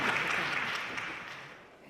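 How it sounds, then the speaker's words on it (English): Audience applause for a blindfolded Rubik's Cube solve at an eyes-free computing event, a steady wash of many hands clapping that tapers slightly toward the end. "Yes, that deserves a round of applause."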